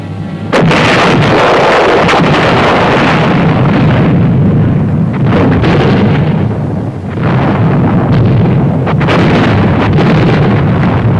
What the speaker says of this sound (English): The barrage to soften up the enemy began. Artillery, mortars, and other supporting weapons.